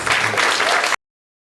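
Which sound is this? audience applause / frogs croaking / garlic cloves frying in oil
audience applause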